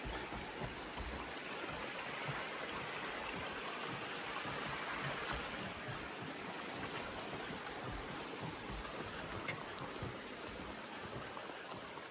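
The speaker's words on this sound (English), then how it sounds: "got a little bridge here and a water source" A stream flows near a small bridge on an Appalachian Trail section, a steady broadband rush of water heard up close and continuous throughout, with no voices.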